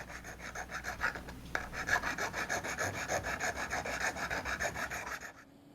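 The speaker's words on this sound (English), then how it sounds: "take a file to the roof to kind of smooth everything out" Steady rhythmic rasping of a metal file smoothing the roof of a die-cast toy car, close and even, about two strokes per second, stopping abruptly at the end.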